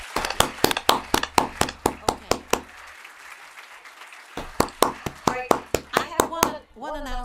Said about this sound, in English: Thank you, with a big applause to the panel.